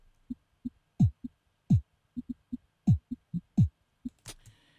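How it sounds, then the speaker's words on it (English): A programmed kick drum pattern in Ableton Live, with deep punchy thumps in an uneven groove, some hits heavier and longer than others, ending in a short bright burst. "we have our kick."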